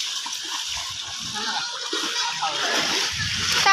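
Floodwater that has entered a village at night splashes and sloshes continuously close by, swelling louder toward the end, with a voice faintly audible underneath.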